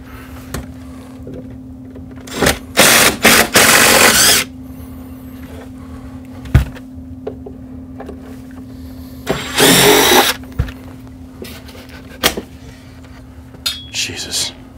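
Screws being removed from a Heathkit SB-220 amplifier: short whirring bursts of a power driver and scattered clicks and clunks over a steady low electrical hum.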